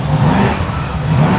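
A Ferrari accelerating up a hill climb course, its engine note rising as it passes close by, loud and steady for a brief moment with no voices.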